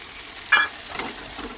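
A paste of green chili, garlic, ginger and onion frying in a pan for chicken biryani, a close, steady sizzle with a sharp stirring scrape near the start and softer stirring after.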